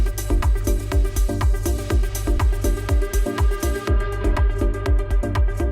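Electronic dance music from a sample pack plays continuously, a transition passage bridging drop and intro, with a steady pounding kick, dense synth layers and bright hi-hats that thin out near the end; no one talks.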